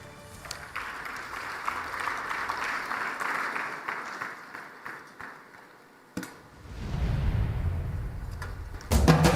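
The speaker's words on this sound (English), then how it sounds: "A round of applause." Audience at an award ceremony applauds a winner, a dense crowd clapping that swells for several seconds and fades out, then a booming low rumble and a renewed burst of clapping near the end.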